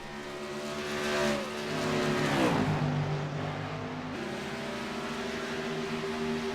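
Race cars roaring around a racetrack, a loud engine whine sweeping down in pitch as one car passes close by, then a steady drone from cars circling on.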